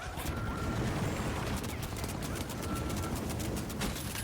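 Dense, sustained automatic turret fire in the Project Zomboid zombie apocalypse game, a loud, continuous rapid clatter of shots lasting several seconds, with no talk over it.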